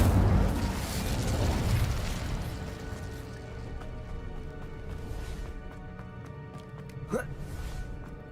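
An Incendio fire spell from Hogwarts Legacy bursts loudly at once and then rumbles and crackles away into a fading tail, with a brief small pop near the end.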